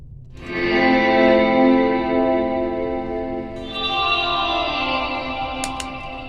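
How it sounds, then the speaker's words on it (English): An electric guitar runs through cheap homemade reverse reverb and ambient pedals, giving sustained, swelling chords with a chorus-like shimmer and a faint octave layer. A second swell starts midway and the tone rings steadily throughout. "this is reverse reverb"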